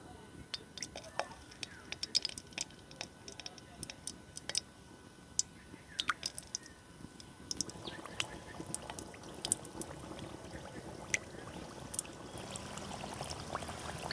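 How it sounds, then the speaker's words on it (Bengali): Cookies frying in hot white oil in a wok, a steady soft sizzle and crackle that grows denser and louder toward the end, with faint scattered pops. "এবার আমি এই তেলে কুকিজগুলো দিয়ে ভেজে নেব।"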